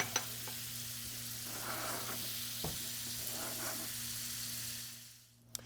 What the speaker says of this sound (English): I got a hot pan. I'm just going to add my butter to this and get that melted down